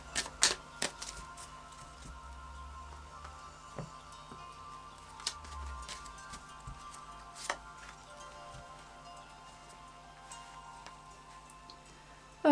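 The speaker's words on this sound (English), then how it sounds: "And final shuffle of the Oracle of Visions." A deck of Oracle of Visions cards being shuffled by hand, giving a scatter of light, quick clicks and taps at close range, with quiet gaps between them and no talking.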